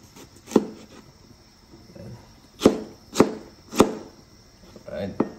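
Ginger chopped with a knife on a wooden board: four or five sharp, close thuds spaced irregularly, with quiet pauses between the cuts.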